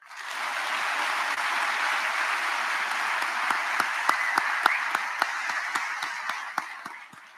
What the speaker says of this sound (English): one more round of applause for the cadre.